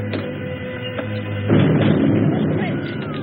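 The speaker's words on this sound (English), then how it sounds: "First missile." A missile firing sound effect in a science-fiction space scene: a low rumbling hum is joined midway by a louder whooshing burst that sustains to the end, with no talking.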